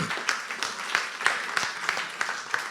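A church congregation applauds in praise, a steady wash of many hands clapping with faint rhythmic peaks, moderately loud and close, with no speech over it.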